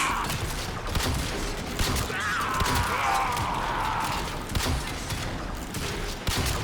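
Dense, continuous weapon fire and impacts in Warframe, including double shotguns blasting repeatedly amid a busy, loud mix of game effects, with no clear talking.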